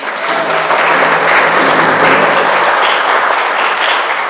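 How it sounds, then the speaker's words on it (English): Sustained audience applause fills a graduation ceremony hall, a dense, even wash of many hands clapping at moderate loudness for several seconds with no talk over it. "Round of applause."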